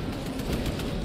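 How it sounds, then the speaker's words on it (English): Rapid, steady automatic gunfire in the Warhammer 40K Space Marine 2 game, a dense rattle of closely spaced shots heard over a low rumbling battlefield background. "Who's he shooting at?"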